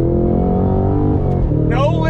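A 2022 Cadillac CT5-V Blackwing under full throttle, its engine note climbing steadily, then a quick dip and recovery at a no-lift gearshift near the end. The engine stays loud and close and a voice is heard over it.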